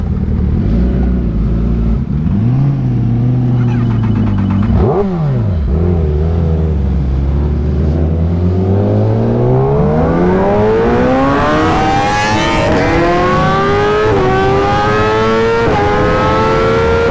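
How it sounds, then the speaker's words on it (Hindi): Motorbikes pass close by on a road where a 2019 Kawasaki ZX10RR is being ridden, engines roaring loud with rising and falling pitch as they rev and accelerate away, a steady powerful drone filling the whole stretch without talk. "एक मिनट ये बाइक निकले थे ज़रा"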